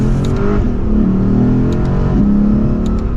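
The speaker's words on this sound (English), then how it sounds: "you get that great V8 sound" A naturally aspirated V8 in a Lexus RC F Fuji Speedway Edition revs up and settles twice, a deep throaty roar with rising harmonics, loud and close with no talking.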